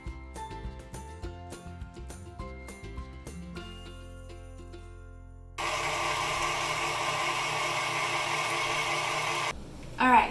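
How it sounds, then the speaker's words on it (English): Stand mixer fitted with a whisk whipping flan batter, a steady loud electric whir that starts partway through after tapping and clinking sounds, with a brief clatter at the end. "I'm going to change it to the whisk to really make sure it's creamy so we get that creamy effect in the end"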